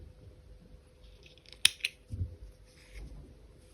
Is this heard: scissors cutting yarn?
yes